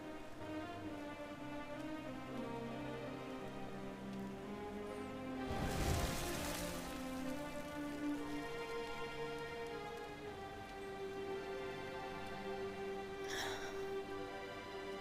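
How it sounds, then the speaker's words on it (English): Steady rain falls in the video game Dragon Quest XI, a continuous hiss under layered sustained tones, with a louder surge of rain noise midway and a brief burst near the end. "Looks like the rain's dying down."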